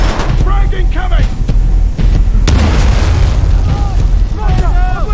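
Frag grenade blast in the Titanfall 2 shooter, a loud close boom amid continuous battle rumble and gunfire, with voices shouting over the chaos.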